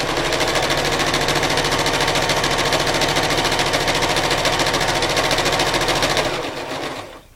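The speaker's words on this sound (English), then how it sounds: "I like to turn it around with the needle staying in the down position and sew right back over that same line" A sewing machine runs steadily at close range, stitching a bold line of a tic-tac-toe grid back over itself on fabric. The fast, even whirring hum holds unbroken for about six seconds, then slows and stops.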